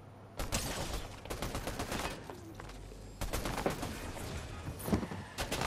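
Fortnite gunfire: repeated loud bursts of rapid shots, several volleys in close succession with short gaps, like a nearby firefight on a bridge.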